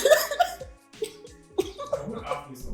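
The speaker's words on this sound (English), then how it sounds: "I don't know where this cough is coming from." A few sharp coughs, close and moderately loud, with short breathy pauses between them.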